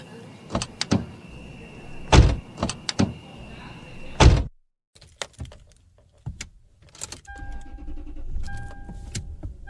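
Someone climbs into a car: a door thunks and shuts several times close by, keys jangle, then quieter shuffling, a latch click, and short electronic chimes from the dashboard, with no talking.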